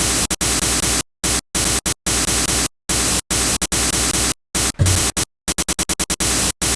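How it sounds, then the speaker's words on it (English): A white noise layer in an electronic music track, meant to suggest a crash or cymbal, bursts in loud hissing blocks chopped by sharp silences, the cuts coming faster and stuttering near the end. "The noise is kind of, I think, meant to replicate like a crash or like a cymbal"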